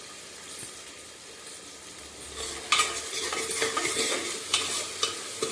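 Finely sliced onion sautéing in a pan for daliya khichdi: a soft sizzle at first, then a run of stirring scrapes and clinks against the pan.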